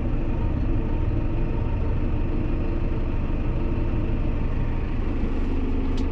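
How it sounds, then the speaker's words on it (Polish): A Fendt tractor engine runs steadily and loud throughout, a continuous low rumble that stays constant with no talking. "silnik zafalował."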